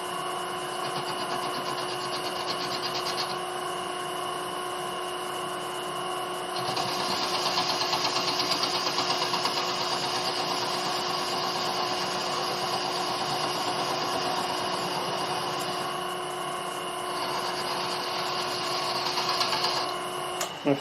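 A metal lathe turning a steel workpiece, its cutting tool not biting across the whole surface, gives a steady machine whine with a constant hum; the cutting hiss grows louder midway, drops briefly, then returns, continuous and close with no talking.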